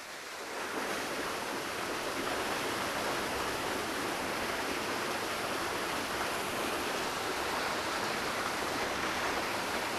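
Water from a mill race dropping 17 feet through an opened sluice gate into a 1,000 cubic foot turbine vessel, a loud, steady roaring rush that starts abruptly and holds constant throughout, with no talk.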